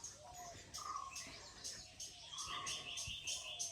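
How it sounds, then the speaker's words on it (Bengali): Birds chirp and call beside a forest, heard from a large veranda: a run of bright, repeated tweets at moderate distance over a soft background hum. "আর পাখির কি আওয়াজ।"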